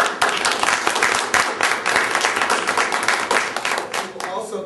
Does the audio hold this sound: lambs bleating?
no